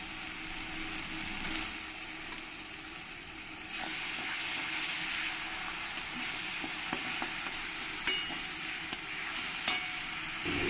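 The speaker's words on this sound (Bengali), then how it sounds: "এবার আমি এর মধ্যে দিয়ে দেব দু চামচ পেঁয়াজ পেস্ট" Onion paste fries in hot oil in a pan for a spicy bhola fish curry with green chilli, giving a steady, close hiss of sizzling broken by a few faint clicks and pops.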